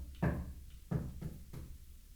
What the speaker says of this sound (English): that's the sound of me touching the floor.